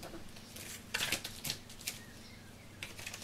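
Scissors cut through paper for a handmade craft card, a handful of crisp snipping and rustling bursts in quick clusters, close but faint over a quiet room with no talk.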